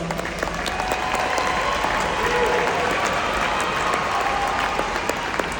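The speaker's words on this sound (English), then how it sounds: "Big round of applause to all of our mothers" A graduation audience applauds mothers during a keynote speech at a university commencement, a loud dense wash of clapping from a large crowd, continuous and fairly uniform, with a few sharper claps standing out.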